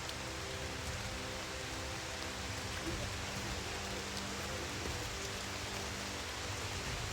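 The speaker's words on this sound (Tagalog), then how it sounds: "ang lakas ng ulan" Heavy rain pouring down in a steady, dense hiss that stays constant throughout, with no voices standing out.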